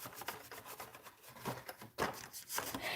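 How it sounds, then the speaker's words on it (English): A hand rubs firmly inside a small paper shipping box to press down sealing tape: close, scratchy back-and-forth rubbing strokes with a few louder scuffs, and no speech. "open it up, and reach inside and rub really good"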